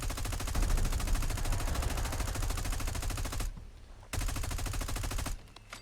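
Colt 723 (XM4) rifle fire in Fallout 4, heard as a loud, dense stream of rapid gunshots that breaks off in two short gaps before the firing resumes.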